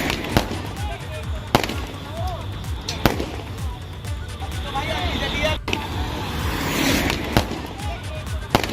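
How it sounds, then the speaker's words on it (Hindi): Fireworks go off from the roof of a moving car on an open road, sharp cracks and pops bursting at uneven intervals over traffic rumble and a fizzing, crackling spray. "आप देख सकते हैं चलते रोड पर ये गाड़ी पर आतिशबाजी की गई।"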